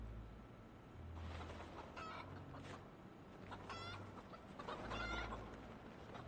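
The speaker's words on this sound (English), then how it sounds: "They're just making noise because they're chickens, that's all." Chickens clucking in Project Zomboid, a few birds giving repeated low clucks and short calls in bursts against a quiet background.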